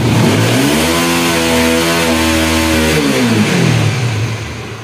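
A motorcycle engine revs up and holds a high, buzzing pitch, then winds back down, close and loud with no talking; the engine loses power at high RPM.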